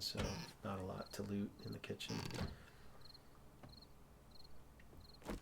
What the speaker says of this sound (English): Could hear the crickets chirping,